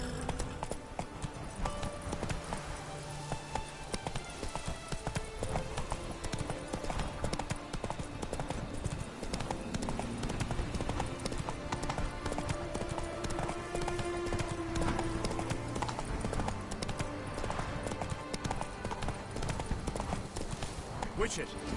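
Horse hooves galloping in a Witcher 3 Blood and Wine game scene, a continuous rhythmic clip-clop under music and game sounds, with someone talking over it.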